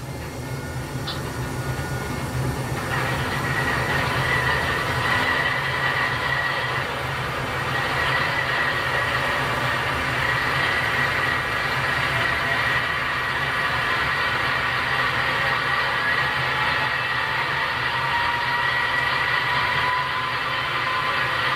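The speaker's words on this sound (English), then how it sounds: "for MTH engines, F3 is your startup sequence." An MTH HO scale GE ES44AC model diesel locomotive runs its startup sequence, giving a steady, loud rumbling engine drone with a higher whine building after a few seconds, continuous and without talk.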